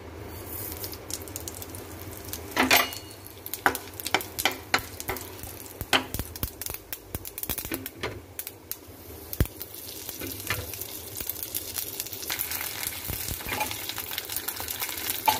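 Tempering spices sizzle and crackle in hot oil in a pan, with sharp pops and spatters over a steady frying hiss, close and fairly loud.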